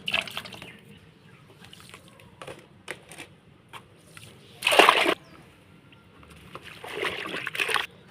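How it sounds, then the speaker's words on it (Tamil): Water splashes as a white shirt is put to soak, with faint sloshing and dripping, then a loud burst of splashing and a second rougher splash near the end. "எப்பவுமே இந்த வெள்ளைச்சட்டை மட்டும் தனியாக தான் ஊற வைக்கணும்."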